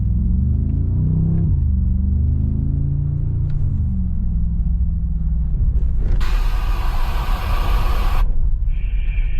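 A Mercedes-Benz G-Class on the test course at the Experience Center in Austria gives a deep, steady engine rumble that shifts in pitch, then a loud rushing noise for a couple of seconds, with no talk.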